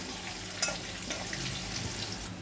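Asafoetida dropped into hot oil in a pan after the stove is switched off, giving a steady close sizzle and crackle with a brief sharper spatter near the start.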